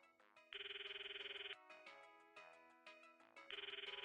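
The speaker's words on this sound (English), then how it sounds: "It sounds like Mayushi's cell phone. Her ringtone." Cell phone ringtone from the game Steins;Gate, a bright electronic melody playing in repeated phrases with sustained buzzing notes between them; faint and alone, no talk over it.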